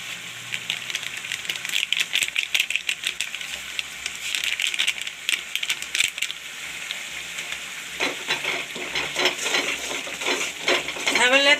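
Jeera powder and masala sizzle and fry in a hot pan for a radish and potato mix, a steady crackling hiss with stirring scrapes that grows busier and louder toward the end, no voices.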